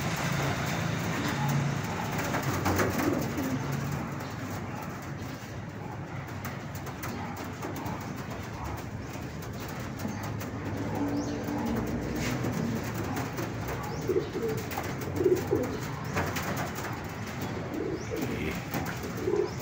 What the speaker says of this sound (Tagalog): Ito naman mga pang-out na ibon.